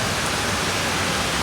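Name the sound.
heavy rain falling in Motijheel street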